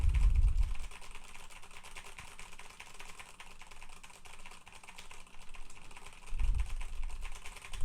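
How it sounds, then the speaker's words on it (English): Rapid, continuous typing on a keyboard with Cherry MX Brown switches, a dense run of soft clicks that carries on steadily through the whole stretch, with a low rumble at the start and near the end. "go ham here on my keyboard with Cherry MX Browns"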